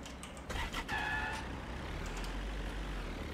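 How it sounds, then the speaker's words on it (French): Vehicle engine in the video game Storage Hunter Simulator, a steady low rumble with a brief higher whine early on, playing alone without talk. "je vais prendre la bagnole."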